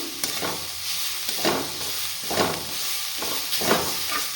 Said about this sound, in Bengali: ঘিয়ের সাথে আমি গাজরটাকে একটু ভেজে নেব